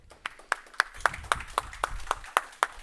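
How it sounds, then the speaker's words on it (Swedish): Rhythmic, evenly spaced clapping at a stage event welcoming a climate activist, about ten sharp claps in a steady beat, close and moderately loud. "Applåd."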